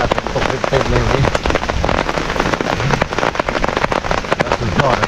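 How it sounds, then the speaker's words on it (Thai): Heavy rain pelts a forest during a storm, a dense, loud, close patter of drops on leaves and an emergency tarp. "ดูสิครับฝนสาดนี่ ดูต้นไม้เปียกหมดเลยนี่ โอ้โหฝนตกหนักมากเลยทุกคนดูเม็ดฝนนะที่หล่นลงมา"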